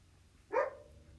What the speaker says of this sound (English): I was listening to my dog bark